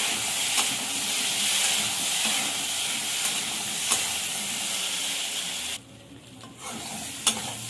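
Potato sautéing with ginger-chilli paste, a bright steady sizzle with occasional utensil knocks and scrapes, close and even until a sudden drop near the end, when the frying briefly quiets before resuming.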